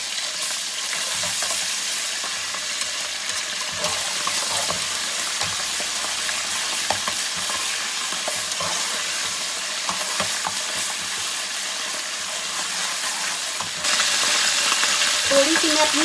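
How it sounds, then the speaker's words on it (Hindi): Ginger garlic paste fries with browned onions for mutton pulao, giving a steady close sizzle with scraping stir sounds throughout and a brief louder burst near the end. "अब मैं इसके अंदर अदरक लहसुन का ये पेस्ट 1 चम्मच ऐड कर दूंगी और इसे 1 मिनट तक भूनूंगी"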